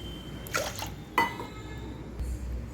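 Water from a small glass is poured onto moong dal and rice in a pot, making two short splashing bursts with quiet stretches between them, nearby and fairly soft.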